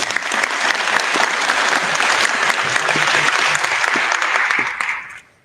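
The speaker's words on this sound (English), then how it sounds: "Big round of applause, please" Loud, dense audience applause for a panel member at a sustainable buildings showcase night, sustained for several seconds before tapering off quickly at the end.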